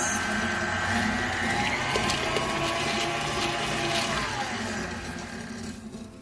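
Electric mixer whirring steadily through banana bread batter with milk added, a continuous motorized churn with sloshing texture, close and fairly loud, tapering slightly at the end.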